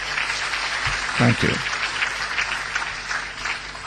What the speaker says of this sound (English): by the mere mention of his name, I raised an applause